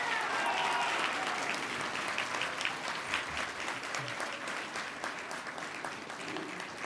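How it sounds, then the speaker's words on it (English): Banquet audience applauding, a sustained patter of many hands at moderate level, with brief murmurs of voices beneath the clapping. "I would love to just give you one big round of applause"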